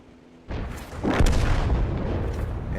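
A heavy artillery salvo from the GW E100 self-propelled gun in World of Tanks: a sharp onset, then a loud, sustained booming rumble with a second swell of blast and rolling echo, no voices.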